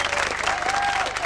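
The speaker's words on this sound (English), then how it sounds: "Give us a nice round of applause." A studio audience at a 1987 Perth telethon in Australia breaks into steady, dense applause that fills the whole short stretch at an even, loud level, with a faint tone running underneath.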